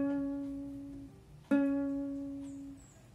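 Two plucked ukulele notes, each sustained with a quick wavering vibrato, the second struck about halfway through; played alone and fairly quiet.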